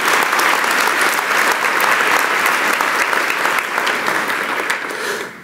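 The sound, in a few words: applause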